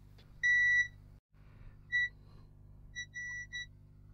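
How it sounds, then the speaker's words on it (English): A multimeter set to continuity mode gives several short, high electronic beeps, one after another with gaps between them, over quiet background hum during a repair of an Instax Mini camera. "Multimeter in continuity."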